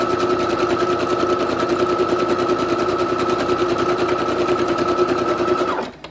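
Brother Project Runway CE1100PRW sewing machine running a pattern stitch at 1.0 stitch length, a fast, even mechanical rattle that holds steady for several seconds and then stops abruptly.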